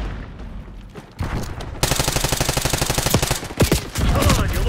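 Rapid automatic gunfire in a video game firefight, dense bursts of shots that swell louder after a quieter opening and continue as a steady, close rattle with a few heavier booms.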